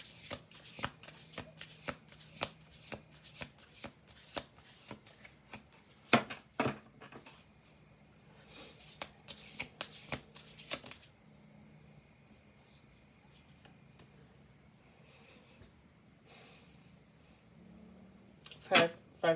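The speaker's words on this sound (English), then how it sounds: "We're going to do 2 more shuffles." A stiff deck of oracle cards shuffled by hand, with a rapid run of crisp riffling snaps at the start, then quieter handling and a final burst near the end, close up with a voice speaking softly in the quieter middle.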